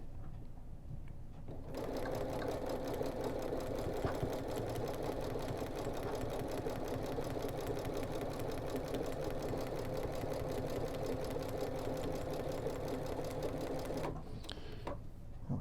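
Sewing machine stitching quilt strips for library quilt blocks, running in one long, steady, fast whir for about twelve seconds before stopping, close and even throughout.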